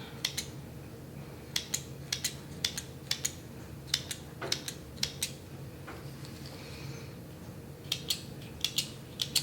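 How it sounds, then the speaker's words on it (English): Small sewing scissors snipping sourdough bread dough to score a tree pattern, a run of crisp, close clicks and snips in uneven bursts, with quiet pauses and no talk. "You don't have to use these little scissors."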